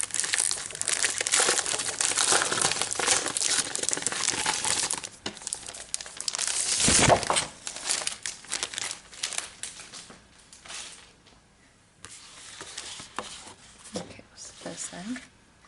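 A pack of thick, textured 12 by 12 craft paper from a card-making kit crinkles and rustles as it is handled, with loud bursts of crumpling that ease into softer intermittent rustles under a person talking.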